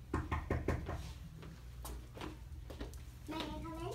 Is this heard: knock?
yes